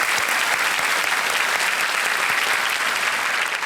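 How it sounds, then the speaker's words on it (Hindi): Sustained, dense applause from a game-show studio audience welcoming a contestant on KBC, loud and steady throughout with no break. "एक बार फिर तालियों के साथ इनका स्वागत करते हैं।"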